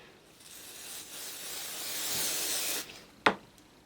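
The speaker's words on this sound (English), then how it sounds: "You can use a temporary, this one I'm using KK2000, but you could use a permanent one like 505 spray or quilt basting spray." KK2000 temporary adhesive is sprayed from an aerosol can in a long, close hiss that swells and cuts off, followed by a sharp, short burst.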